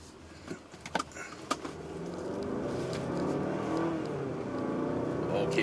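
A 2019 Mazda CX-5 with the 2.5 turbo engine accelerates smoothly from inside the cabin, a steady engine drone rising gradually, with a few brief clicks early on and speech over it.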